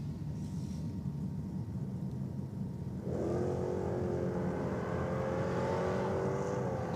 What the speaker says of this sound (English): On track now, a very nice Stingray Corvette.